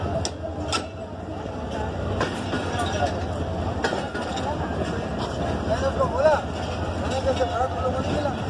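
Mehran Express train running on rails, with a steady low rumble and rattling wagon noise throughout, close and continuous, while someone talks over it.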